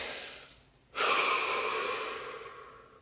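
A single deep breath in a quiet guided body-scan session, a soft airy inhale rising then a long steady exhale that fades gradually, close and unaccompanied by talk.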